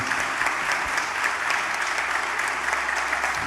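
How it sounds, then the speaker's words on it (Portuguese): A church congregation applauds steadily, a dense even wash of many hands clapping at a moderate, unbroken level from start to finish. "Vamos aplaudir o Senhor, queridos."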